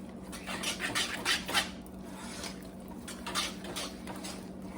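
A spoon scrapes and rubs through a thick meatloaf mixture in a pot with the heat turned off, giving close, irregular scraping strokes that come in bursts over a steady low hum.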